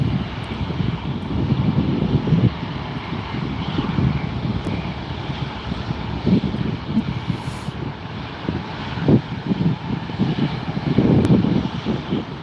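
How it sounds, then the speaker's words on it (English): Delta airliner departing LAX, heard as a steady roaring jet engine rumble that swells and fades over several seconds, fairly distant and continuous without speech. "We have a Delta departing"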